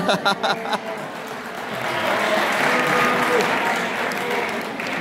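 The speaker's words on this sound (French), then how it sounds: "C'est les supporters des concurrents qui applaudissent." Rival football supporters applaud as a crowd, a steady wash of many hands clapping that swells and holds after a few separate sharp claps at the start.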